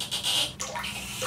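Cold water running steadily from a newly installed kitchen faucet, a close, hissing rush that shifts slightly in tone partway through, alone without talk.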